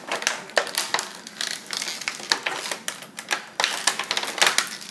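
A Star Wars Black Series 6-inch Anakin Skywalker action figure is worked free of its plastic packaging, giving close, irregular crinkles, clicks and snaps that come in quick bursts with brief pauses, and no one speaks.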